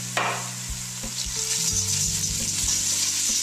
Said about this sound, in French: Une fois que l'échalote est bien dorée, j'ajoute le riz.